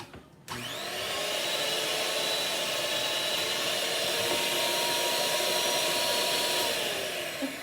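An electric mixer starts abruptly and runs at a steady, loud whir while chocolate candy is being made for Christmas, continuing without a break and with no talking.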